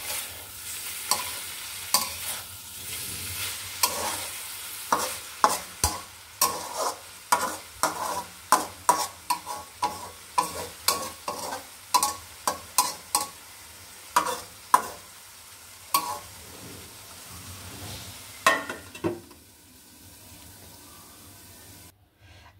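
Vegetable bhaji fries in a pan while a spatula stirs it, giving a run of distinct scraping strokes over a soft sizzle, stirring slowing and then stopping near the end; no talk.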